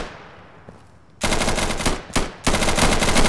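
Dense automatic gunfire from the tactical shooter game Insurgency, loud and close, bursting in after a quiet second and running nearly continuously with one brief break, no talk over it.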